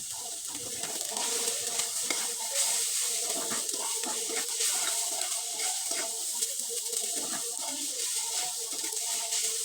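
Pre-boiled, drained noodles being stirred and tossed in a frying pan, a soft continuous sizzle with scraping, shuffling stirring sounds up close and no speech.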